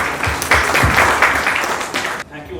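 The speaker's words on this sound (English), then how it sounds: "with a huge round of applause" Loud audience applause greets a chapter president at an entrepreneurship business plan competition event, dense clapping running for about two seconds before cutting off abruptly.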